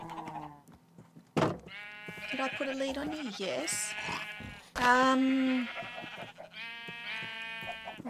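Several sheep in Minecraft bleat in long wavering calls, close and fairly loud, spread across the scene while someone talks between them.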